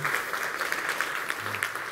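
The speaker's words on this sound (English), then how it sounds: "So please applause for that." Brief applause from a tech conference audience, a dense patter of many hands at moderate level, with a faint voice underneath.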